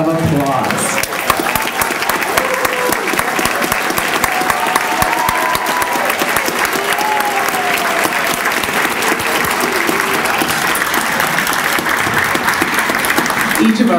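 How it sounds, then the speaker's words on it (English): An evening audience applauds past Educators of the Year at an awards ceremony, a steady, dense clapping that holds at full strength for the whole stretch with no talk over it. "Please stand and let's give them a round of applause."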